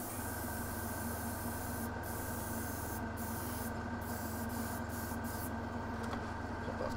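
An airbrush sprays a coat of paint onto a miniature in a quiet room. It gives a faint, steady hiss, with a few brief sharper bursts of air.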